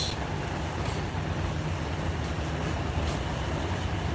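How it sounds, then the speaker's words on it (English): Inside a moving commuter train during a snowstorm, a continuous low rumble and rolling rail noise fill the space at a steady level, with faint clicks above the drone. "So I'm riding the train."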